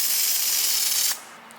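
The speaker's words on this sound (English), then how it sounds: "So we got Release Ultra and our foamer." A foam sprayer hisses Release Ultra bug cleaner onto a Vans RV-14 airplane in a steady, close, broadband spray lasting about a second before cutting off.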